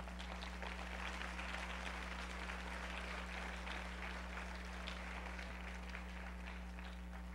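A church congregation gives applause to the Lord during a Spanish-language sermon, steady dense clapping heard faintly over a constant low electrical hum, continuing evenly without voices.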